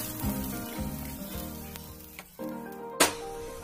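A coconut wheat poli cooks in a pan with a soft, steady sizzle, close and quiet, broken by a few light clicks and a sharper knock near the end.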